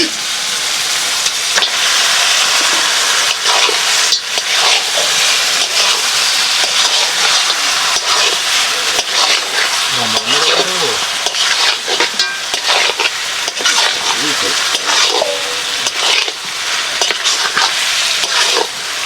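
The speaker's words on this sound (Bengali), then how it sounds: "মশলা আমাদের কষা হয়ে গেছে, এবার মাংসগুলোকে দিয়ে দেওয়া হবে।" Country chicken meat fries in cooked spices, a loud, close, continuous sizzle with repeated stirring scrapes and bumps, and faint voices in the background at times.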